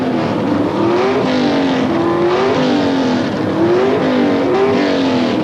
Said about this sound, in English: He's racing Jim Canet in a Plymouth Volare.